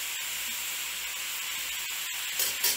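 Ground beef hisses steadily in a pan while being seasoned with salt and bouillon for a lasagna, a constant sizzle with a couple of sharper flare-ups near the end.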